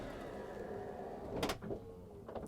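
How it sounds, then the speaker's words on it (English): Automatic sliding door on a 2023 Mercedes Sprinter VIP luxury van closes with a quiet motorized slide and a short thud near the end, heard close up in a calm interior. "Let me just close the door with this center console."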